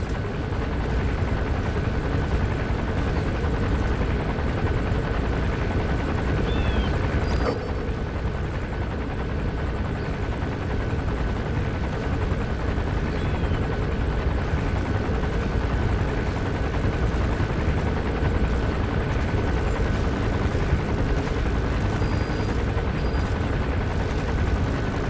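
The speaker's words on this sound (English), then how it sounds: "There's a chopper landing." A helicopter landing in Metal Gear Solid V: The Phantom Pain, a steady, continuous rotor and engine drone that holds at an even level throughout, with no voices.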